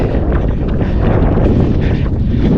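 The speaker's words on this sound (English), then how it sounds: "I'm running into that wind now, which is cooling me off but slowing me down." Wind blows hard against a runner outdoors in Edmonton, a loud and constant rushing buffet over the microphone that lasts the whole moment with no break.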